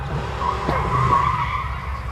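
Chevy-engined sprint race car at a hillclimb launch, its rear tires spinning and skidding with a rough, loud engine roar for a couple of seconds.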